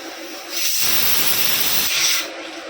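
A loud, steady steam hiss swells up and holds for over a second, then eases off, from a pressure cooker venting while boiling goat trotters for soup.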